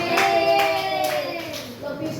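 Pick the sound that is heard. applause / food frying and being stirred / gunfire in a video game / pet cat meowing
applause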